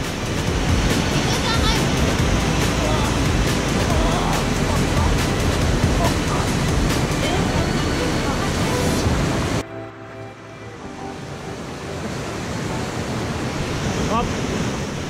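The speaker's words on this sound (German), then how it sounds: "Gemeinsam analysieren wir diese Stromschnelle und die Strömung" Whitewater river rapids and strong current on a packrafting rescue course, a loud continuous rushing roar that breaks off sharply partway through and resumes slightly quieter.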